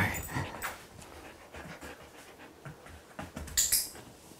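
A dog pants steadily and close by in a rapid, breathy rhythm during an obedience training game, with a brief louder burst near the end.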